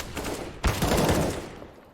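A short burst of rapid gunfire in a Counter-Strike match on the Dust 2 map, a quick string of sharp, close shots that cuts in abruptly and then fades out.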